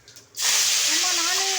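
Fennel seeds hitting hot groundnut oil burst into a loud, steady hiss after a quiet moment of low murmuring, the sizzle continuing bright and close to the end.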